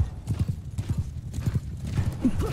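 A horse gallops in the video game Bannerlord, with quick rhythmic hoof clip-clops close up and a brief whinny near the end, over a low background rumble.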